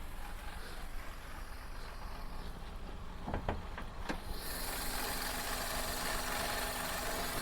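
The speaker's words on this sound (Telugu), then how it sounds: "ఇంజన్ కూడా చాలా సైలెంట్గా ఉంది, నీట్ కండిషన్లో" A 2012 Maruti Alto LXi in neat condition idles quietly with a low, even hum, a few sharp clicks about halfway through, then a steadier hiss that rises and holds to the end, with no voices.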